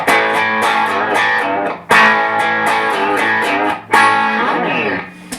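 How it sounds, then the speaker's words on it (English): Overdriven electric guitar through a breaking-up Marshall Origin 50 amp, three strummed phrases with gritty, crunchy distortion, loud and close with no talking. "you can hear the amp start to break up, is what it's called there, and create a little bit of distortion"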